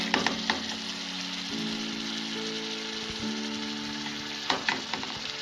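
Chicken pieces frying in hot oil in a karahi, a continuous close crackling sizzle with sharper spatters and stirring clatter at the start and again near the end, no voices.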